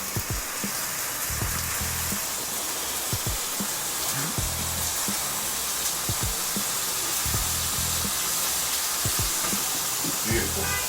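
A chicken caprese sandwich sizzles in a hot pan while being pressed down, a steady hiss broken by faint clicks and taps throughout.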